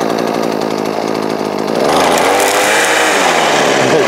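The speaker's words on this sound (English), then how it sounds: "And the trimmer doesn't put up an effort at all." A Makita EM2600L string trimmer runs close by at high revs, a loud, buzzing two-stroke whine that climbs in pitch and intensity partway through as it cuts, with no talking.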